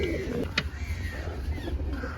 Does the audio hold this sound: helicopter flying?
no